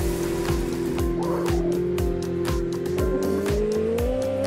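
Racing-style Ferrari engine in the video game Pumping Simulator 2, a loud steady drone shifting upward in pitch, with a run of repeated tire squeals and thumps pulsing about twice a second.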